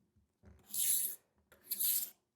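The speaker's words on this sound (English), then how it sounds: "we can roll it across, and it's not going to move on here, and you're just going to grind that right across your blade." A rolling knife sharpener grinds across a knife blade in two separate passes, each a harsh, close raspy scrape of about half a second to a second, with quiet gaps between.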